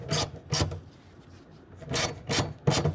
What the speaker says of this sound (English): And then we're going to tighten that down with a 1/2 inch.